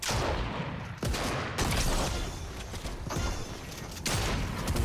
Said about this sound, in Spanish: Disparo enfrente a la derecha.